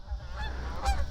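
Geese honking outdoors near a parked motorcycle, short nasal calls rising over a steady low rumble of wind or traffic, with a louder honk near the end.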